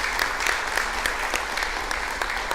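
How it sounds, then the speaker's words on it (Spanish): Audience applause for the clarinetist Marta after a performance at a presentation in Tijuana, a steady dense clapping from a crowd lasting throughout with no voices over it. "Otro aplauso para Marta"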